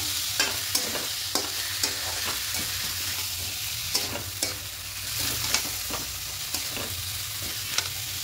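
Washed rice and lentils being sautéed with spices in a pan for vegetarian khichuri: a constant soft sizzle under regular scraping and knocking strokes of a spoon against the pan, close up and unaccompanied by speech.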